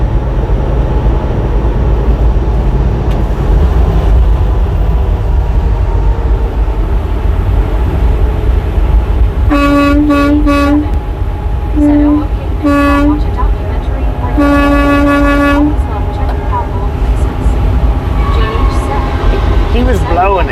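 A coal train's horn blows in several long toots from outside a moving truck cab, sounding over steady road rumble while someone talks.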